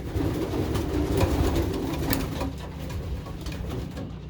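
Pigeons cooing in a loft, soft low repeated coos close by over a rustling background, continuing steadily with no talking.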